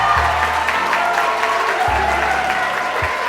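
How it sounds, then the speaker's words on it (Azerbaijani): Audience applauding at a jubilee celebration concert, steady sustained clapping from a crowd that fills the whole stretch at even loudness, with a few low thumps underneath. "Bir gözəl alqışlarınız gəlsin"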